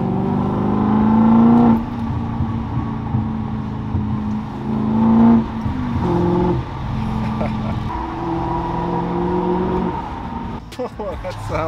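A BMW M5 E39 engine with a straight-pipe exhaust that has fallen off revs and rumbles loudly and steadily nearby, with the pitch rising and falling through several revs while a voice talks over it.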